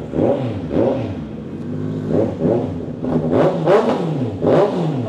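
A 2024 Honda CB650R E-Clutch motorcycle with an upgraded exhaust revs hard in repeated throttle blips, each surge rising and falling close by with a rough, loud bark and no talking.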